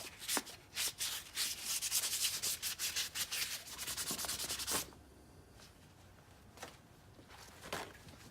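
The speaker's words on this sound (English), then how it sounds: "I'm going to start here with some 320 grit for a few minutes, and then we'll go up to 600 to make it really smooth." Sandpaper of 320 grit rubbing on a brake caliper piston from a 1988 Dodge Raider, a close, steady scratchy rhythm of quick strokes for about five seconds, then a few sparse lighter rubs with quiet gaps.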